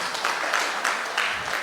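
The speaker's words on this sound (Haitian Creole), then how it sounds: "Applaudissez nous encore une fois" Conference audience at a regional finance summit applauding, a dense steady patter of clapping heard throughout at even volume.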